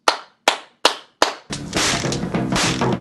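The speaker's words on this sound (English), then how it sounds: "at least now I know what the Foley guy did to make the punching sound effects" Four sharp, dry punch-like slaps ring out evenly, each alone with a short decay, from a fight scene in a film. A dense, loud burst of crashing noise then runs to the end.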